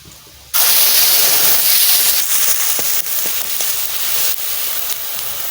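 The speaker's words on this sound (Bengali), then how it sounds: "সেই মশলাটা দিয়ে দিচ্ছি রসুন পেঁয়াজ আদা কাঁচা লঙ্কা" Spice paste of garlic, onion, ginger and green chili hits hot oil with a sudden loud sizzle that flares up and then holds as a steady, hissing spatter, briefly dipping and swelling as it cooks.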